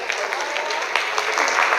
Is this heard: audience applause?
yes